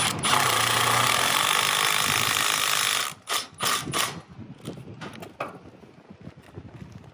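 An impact driver runs in one loud, continuous burst for about three seconds while fastening a metal chimney umbrella on a roof, followed by several short clatters and knocks of handling.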